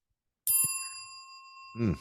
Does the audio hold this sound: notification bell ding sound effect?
yes